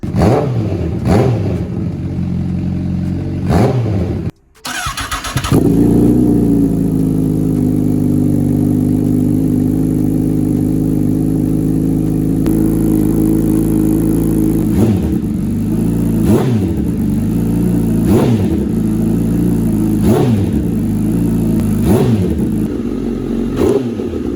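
A 2019 Honda CBR1000RR sport motorcycle engine with an aftermarket exhaust cranks, catches and idles with a deep throaty exhaust, then is revved in repeated sharp blips that rise and fall, loud and close.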